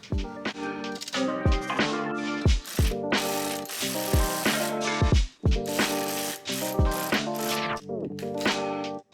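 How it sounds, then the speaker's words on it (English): A hand ratchet tightens a nut onto a bolt under a car bumper while fitting a Maxton Street Pro splitter, close, loud bursts of rapid clicking in repeated strokes with short pauses between them. "I was pretty much struggling with that nut, trying to secure it onto the bolt."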